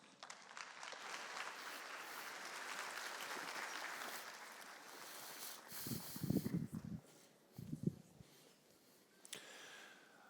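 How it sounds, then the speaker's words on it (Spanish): An audience at a public accounting conference in Bogotá claps warmly, with the applause sustained for several seconds and then thinning out. A few scattered breaths and rustles follow, and nobody speaks. "Recibamos al doctor Andreas Bergman con un fuerte aplauso."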